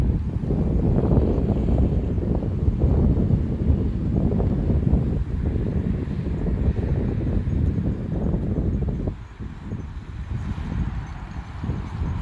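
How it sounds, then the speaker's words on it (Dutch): Strong wind buffets the microphone in open country near Terneuzen, the Netherlands. A loud, steady roar fills the clip and eases somewhat toward the end. "maar ik zeg er is veel wind"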